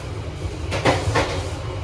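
Inside an Indonesian executive-class passenger train carriage from 2009 on the Semarang–Solo night run, a button-operated sliding door closes smoothly with a short double thud and rattle over steady low cabin rumble.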